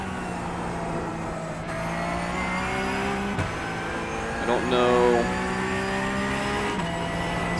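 A Porsche 992 GT3 Cup race car in the iRacing sim holds a steady engine drone with gear shifts and a brief rising rev, sitting quietly under a voice.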